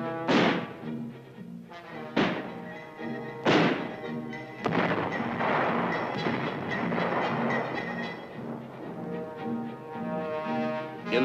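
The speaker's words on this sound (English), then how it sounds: "Mortar teams are drilled in exercises to set up and to sight in, plot, and fire the big 81-millimeter U.S." Big 81-millimeter U.S. mortars firing during a 23rd Infantry Americal Division training exercise, three heavy booming thumps in quick succession followed by a long rumbling roar and another thump at the end.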